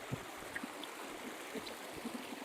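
A stream flowing in Placerita Canyon on a hiking trail, a faint, steady wash of running water with small scattered trickles and splashes.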